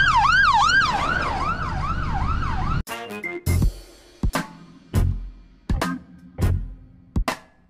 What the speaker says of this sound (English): now we've got fire engines turning up.